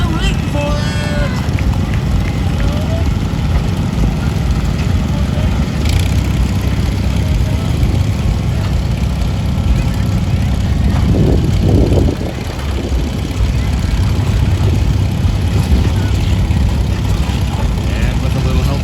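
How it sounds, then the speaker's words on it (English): A John Deere garden tractor works hard in an antique tractor pull at a fair, its engine a constant loud drone under a continuous announcer's voice over a public address, with a brief dip near the end. "Maddie there on that John Deere garden tractor"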